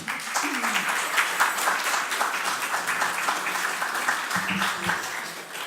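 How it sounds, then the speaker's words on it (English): Audience applause at a summer school event held in a chapel, a steady wash of clapping lasting several seconds with no clear pauses. "So if you can give a round of applause."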